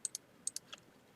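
Computer mouse right-clicks, four crisp, faint taps in two quick pairs, close and alone in a quiet room.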